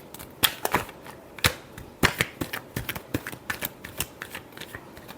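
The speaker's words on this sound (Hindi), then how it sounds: "Last shuffle." A deck of tarot cards is shuffled by hand in quick, uneven bursts of crisp riffling and tapping, close and fairly quiet.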